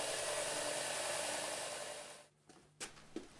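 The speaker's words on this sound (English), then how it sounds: "zip that off on the sander" A sander smooths a lathe-turned metal part with a loud, steady, broadband whir for about two seconds. It then cuts out into a quiet pause broken by a few short bursts as the part is touched back to it.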